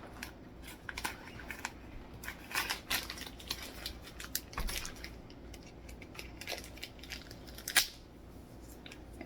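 Repeated crisp snipping and crinkling of scissors cutting through the plastic wrap of a beef eye of round package, irregular clicks close by in a quiet room.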